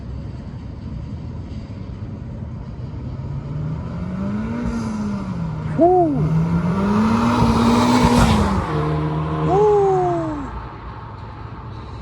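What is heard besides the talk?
Honda Civic Type R with PRL intake doing flybys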